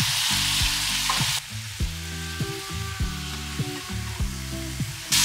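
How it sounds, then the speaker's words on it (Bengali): Vegetables sautéing in a pan with turmeric, chilli, cumin and coriander powders and salt, a loud hiss that drops to a low sizzle with repeated rhythmic scraping stirs. "এবার স্বাদ মতো নুন অ্যাড করে ভালো করে একটু কষিয়ে নেব"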